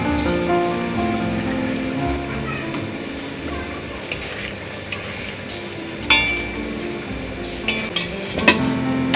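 Paneer masala cooks in a pan after a spoonful of ghee goes in, giving a soft steady sizzle with occasional scraping clicks of stirring, fairly quiet and close.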